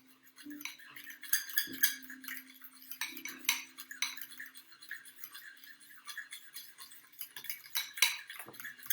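A metal utensil stirs a fruit preparation in a bowl, with rapid scraping and clinking strokes repeating close by throughout, no voices.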